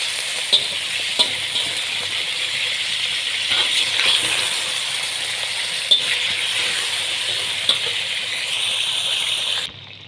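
Chicken pieces sizzle steadily in hot oil for a chilli garlic karahi, with soft scrapes and clinks from stirring scattered through a continuous close frying hiss that stops abruptly at the end.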